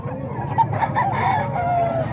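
Chickens cluck in a busy poultry yard while a rooster crows, the calls rising and falling close by over a low background murmur.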